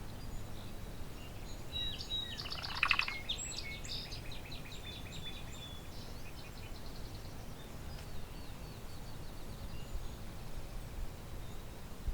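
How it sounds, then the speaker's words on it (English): A song sparrow delivers one brief trilled phrase from a short distance outdoors, standing out over a quiet, rustling background during a walk, with no speech. "Lots of song sparrows around."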